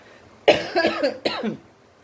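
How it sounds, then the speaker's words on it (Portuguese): Two harsh coughs, a longer one followed by a shorter one, close by with no talking. "eu tô tossindo muito"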